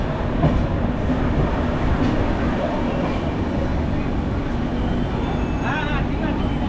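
A passenger train on the Howrah to Bhubaneswar run gives a loud, steady low rumble and rattle from inside the carriage, with voices talking faintly underneath.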